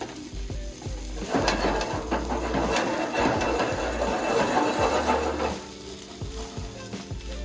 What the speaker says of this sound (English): We're gonna cook our eggs with a little bit of the herb.